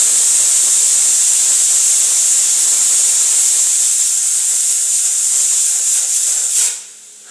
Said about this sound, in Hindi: जैसे अब कुकर में सीटी बज रही है